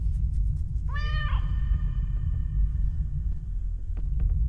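A single cat meow in the video game The Stairway 7, one clear rising and falling call near the start over a steady low rumbling background, followed by faint clicks.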